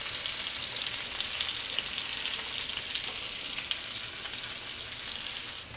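Julienned onions frying alone in a pan, a dense, steady hiss of sizzling oil held close and constant throughout with no talk.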